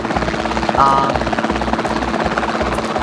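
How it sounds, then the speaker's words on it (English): A helicopter in the Jurassic World Evolution 2 video game thumps steadily with fast, even rotor beats, loud and close, while a voice talks over it. "we just got dropped off by the helicopter in this high security area"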